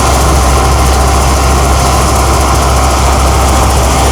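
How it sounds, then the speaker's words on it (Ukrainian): A Volvo 1130 combine harvester threshing soybeans gives a loud, close, constant engine roar with a heavy low drone and rattling mechanical vibration, unbroken throughout and with no voices. "Комбайн Volvo 1130."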